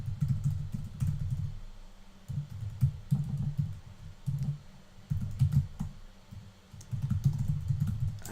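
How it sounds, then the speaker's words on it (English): Someone types on a computer keyboard at a desk, a close series of soft clattering keystroke bursts with brief pauses between them, alone without talking. "I'm having trouble typing today for some reason."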